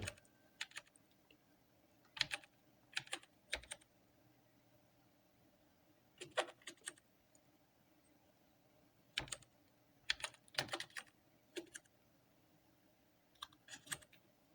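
A computer keyboard is typed on in bursts of quick, soft clicks, with short quiet pauses between bursts, close and fairly faint with no talking.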